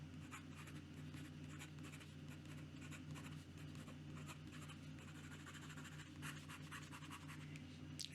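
A WingSung 699 vacuum-filling fountain pen with a fairly stiff nib scratches quickly across paper, soft close-up continuous scribbling strokes in a quiet room.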